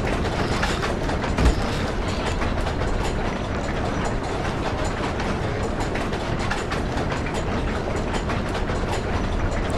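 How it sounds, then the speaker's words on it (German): A train rumbling past in Amnesia: The Dark Descent, a dense, continuous rattling clatter of wheels and cars that stays loud and steady throughout, with no voices. "Hört sich an, als ob gerade ein Zug vorbeifährt."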